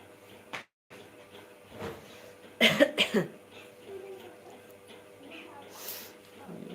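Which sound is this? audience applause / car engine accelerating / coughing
coughing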